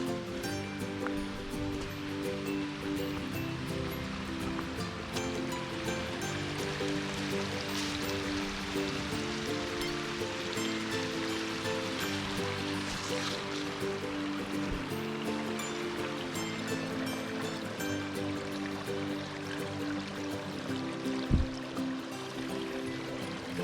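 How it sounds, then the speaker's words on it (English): Water flowing out from Gap Cave in Cumberland Gap National Park, a steady, close rushing and splashing stream that continues evenly throughout with no talking. "the Gap Cave is just right up above us here, and that's where this water is coming from"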